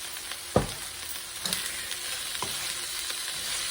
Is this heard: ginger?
yes